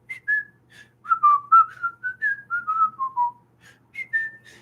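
A whistled melody line for a ukulele song, played alone as a clear solo of short tuneful phrases with gliding notes and brief pauses between them.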